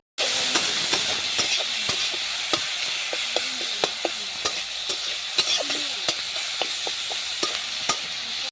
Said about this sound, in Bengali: সরষের তেল গরম হওয়ার পর আমি তার মধ্যে কুচি করা পেঁয়াজ দিয়ে দিলাম